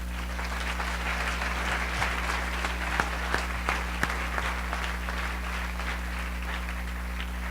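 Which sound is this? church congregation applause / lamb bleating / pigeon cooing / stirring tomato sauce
church congregation applause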